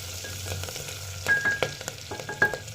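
Green chili and ginger sautéing in a pan for dal khichdi tadka, a soft steady sizzle with scattered stirring scrapes and clicks, close and fairly quiet.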